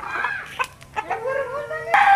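Birds, including chickens and fowl, call at an animal park with a series of close, loud clucking and crowing-like cries with short pauses between calls.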